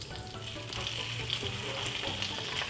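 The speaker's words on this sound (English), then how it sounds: "we're going to fry the bacon for about 4 to 5 minutes" Bacon sizzles and spits steadily in a pan over medium heat, a dense continuous crackle with no voice over it.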